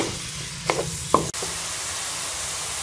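Onions fry in ghee with a steady soft sizzle, punctuated by a few brief stirring clinks and a knock.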